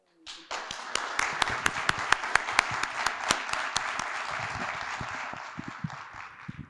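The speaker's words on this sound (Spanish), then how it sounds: "Lo recibimos con un fuerte aplauso." Audience applause welcoming a speaker on arboriculture at an environmental conference day on native flora and urban trees, a dense steady clapping that swells in quickly, holds loud for several seconds and thins out toward the end.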